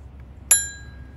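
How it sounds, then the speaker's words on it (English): A small bell on a model ship rings once with a bright metallic strike, its tone ringing out and fading over about half a second against a quiet low hum. "Bell."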